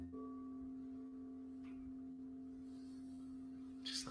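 Soft, sustained meditation tones drone quietly and steadily as a low hum with a faint higher sine tone above it. A brief brighter shimmer comes near the end, and no one speaks over it.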